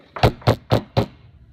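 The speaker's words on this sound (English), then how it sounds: "An hour later, there came a knock at the door." Four firm knocks on a door, evenly spaced and close, each a sharp hollow thump followed by a brief quiet tail, with nothing else heard.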